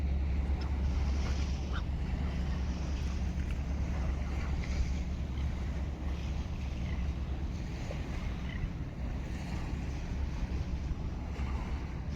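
Surf rolls in at a beach on the Kuwait coast, steady wind and wave wash filling the scene, with a container ship passing far offshore barely standing out from the continuous roar.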